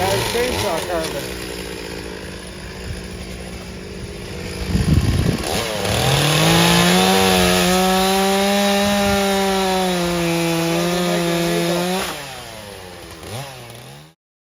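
A chainsaw bites into a log at a lumberjack-style show, its engine revving up and holding a high, strained whine as it cuts, with crowd noise and outdoor bustle around it.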